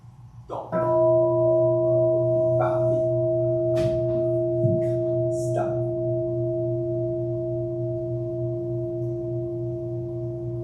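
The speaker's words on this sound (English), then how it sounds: "Sensei will strike the bell once to begin" A Buddhist temple bell struck once at a Shotsuki Hoyo memorial service, giving a single loud strike that rings on as a long, sustained tone with steady overtones, slowly fading across the whole stretch with no talk over it.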